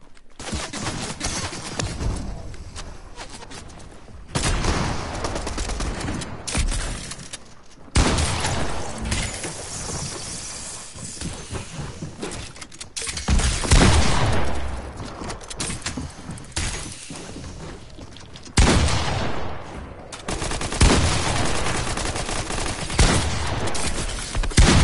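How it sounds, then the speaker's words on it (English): Dense rapid gunfire from a Prime SMG and a charge shotgun in the Fortnite video game, loud sustained bursts and fusillades broken by short pauses throughout. "Go with the Prime SMG. Charge shotgun."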